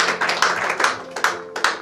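Congregation applauding during a church service, a run of quick overlapping claps with rhythmic bursts, moderately loud and steady for under two seconds.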